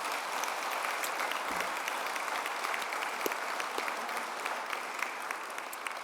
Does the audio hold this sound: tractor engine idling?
no